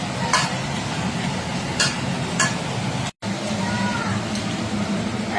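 Fish frying in a pan at home, a constant close sizzle broken by a few sharp scrapes and clinks of a utensil, with a brief cut to silence midway.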